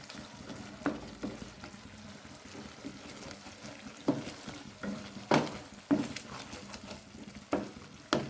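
A spice mix of chilli powder with Kashmiri chilli being stirred and fried in a pan at home, with steady low sizzling and several sharp scrapes and clinks of a spoon against the pan at irregular intervals.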